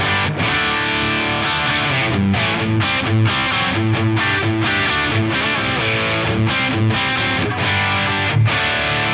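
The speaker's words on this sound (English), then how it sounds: "I've got a straight up rock rhythm tone." Distorted electric guitar playing a straight rock rhythm through a MIDI-switched effects rig with plate reverb, loud and continuous with chugging strummed chords and short stops, no talking.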